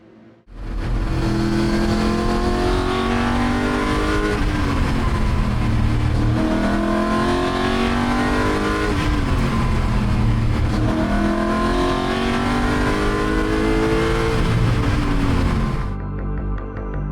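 A Ford GT40 sports car drives on the track at Silverstone, its engine roaring loud and close throughout as the revs climb and drop through repeated gear changes, then cutting off abruptly at the end.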